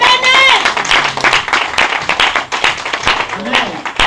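A church congregation claps and cheers during a worship service, loud dense applause mixed with shouting voices and a preacher's talk over the crowd for the whole stretch.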